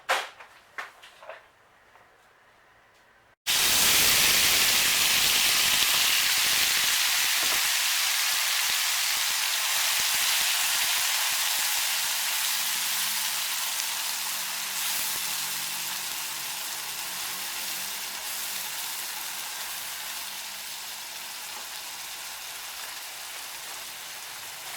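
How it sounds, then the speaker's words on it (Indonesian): Ground chili paste hits a hot pan and sizzles loudly and steadily for about twenty seconds, a dense hissing fry that slowly softens, after a few quiet kitchen clicks. "lalu kita masak cabenya dulu"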